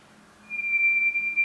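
A patient whistles a single steady, pure tone during a cranial nerve examination, starting abruptly and holding clean and fairly close for about a second.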